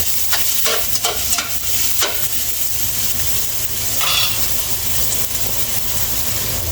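Garlic sizzles and fries steadily in a hot pan while it is stirred, with a few clattering scrapes early on. The loud hiss runs continuously throughout.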